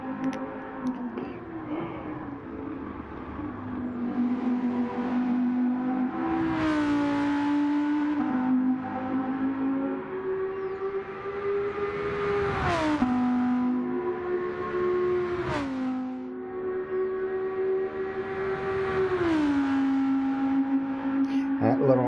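Audi R8 race car engine in a racing video game, a droning engine note rising through the gears with upshifts and drops, loud and continuous over about twenty seconds.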